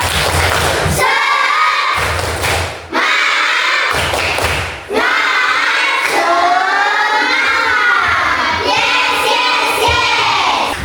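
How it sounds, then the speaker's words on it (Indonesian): A room of schoolchildren performs a rhythmic group clapping chant, loud bursts of synchronized claps and voices in several phrases with short pauses between them. "Tepuk semangat."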